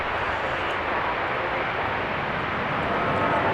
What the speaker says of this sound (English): I see Delta Flight 1703 on final approach on runway 36 left.